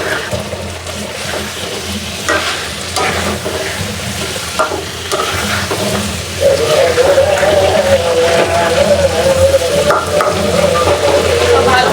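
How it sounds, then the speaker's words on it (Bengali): Chicken sautéing in spice masala in a pan, a constant close sizzle with scraping stirs, the frying growing louder and steadier partway through. "তো ভালো মতো কষানো হোক চিকেনটা।"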